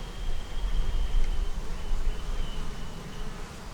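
Honeybees hum on a hive frame during an inspection, a steady dense buzz close by with no talking.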